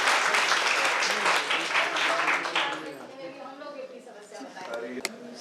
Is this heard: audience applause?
yes